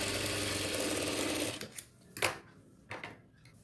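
A sewing machine stitches the shoulder seam of a nighty in a steady whirring run for about a second and a half, then stops, followed by a few short clicks and fabric handling sounds.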